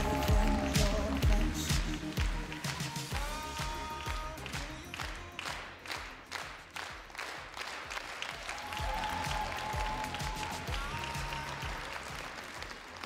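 A theater audience at a KVN comedy show in Ufa claps steadily, a dense patter of many hands that swells and settles over thirteen seconds, with a voice briefly over it.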